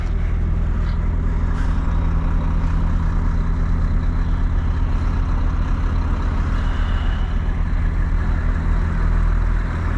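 A Volvo FH 540 truck pulls away on wet steel, its engine a loud, steady low rumble that fills the whole stretch without talk.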